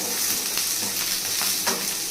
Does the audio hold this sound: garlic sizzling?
yes